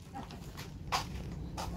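A few short, muffled barks or yips from a large dog over a low steady hum, spaced irregularly and fairly close.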